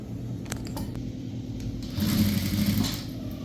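A sewing machine stitches a box pleated school uniform skirt, a steady soft whir that grows a little louder partway through.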